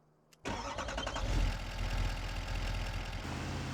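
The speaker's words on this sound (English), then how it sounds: "so we got the truck fired up" A truck engine in Farming Simulator 25 cranks and catches after a brief click, then settles into a loud, steady idle with a faint rhythmic chug, heard alone without talk.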